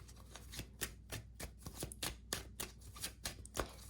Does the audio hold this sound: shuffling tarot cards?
yes